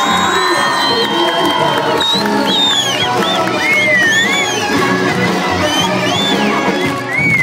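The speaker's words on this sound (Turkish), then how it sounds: "Biz de gölgesini alkışlarız. Alkışlıyoruz." A loud outdoor crowd at a CHP mayoral campaign rally in Saygeçit cheers continuously, with whoops, whistles and shouts layered over a dense roar that holds steady throughout.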